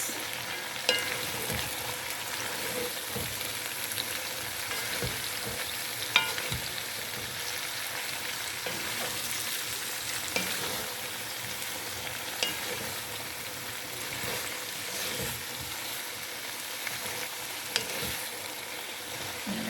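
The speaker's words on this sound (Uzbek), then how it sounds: "Shunaqa qilib yaxshilab qovurib olamiz. Sabzimizni qovuryapman." Mixed red and yellow carrots fry in a pan with a continuous, moderately loud sizzle, broken by scattered scraping and stirring knocks.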